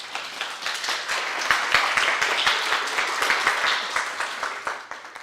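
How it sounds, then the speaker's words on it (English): A round of applause from a small audience at a Docker meetup after a talk, steady close clapping that holds for several seconds and then thins out toward the end. "Let's give a round of applause."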